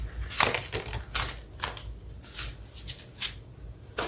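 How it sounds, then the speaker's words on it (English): A deck of tarot cards is shuffled by hand close up, giving quiet riffling and flicking bursts in an uneven rhythm over several seconds with no talk. "Many cards fell out on the floor, so I'm gonna shuffle again and pull"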